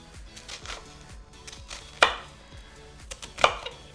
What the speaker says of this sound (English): Got here a red onion. I'm gonna just cut just a little bit off of that.